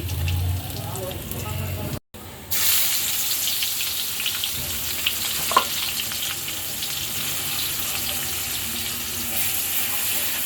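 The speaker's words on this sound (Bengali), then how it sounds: "পেঁয়াজটা আমি একটু ভেজে নরম করে নিব।" Onion frying in a pan to soften, a steady close sizzle running throughout with faint clatter and a short dropout early on; no talking.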